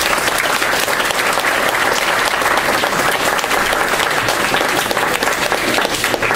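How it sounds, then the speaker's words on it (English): Loud, sustained applause fills a spring recital hall as an audience claps for young performers, a thick, unbroken patter lasting several seconds. "Let's give them a round of applause"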